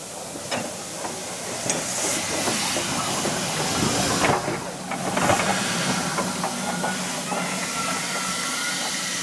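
A steam locomotive at a Foxfield Railway station hisses steadily and loudly, with metallic clanks and knocks from the train waiting to couple up.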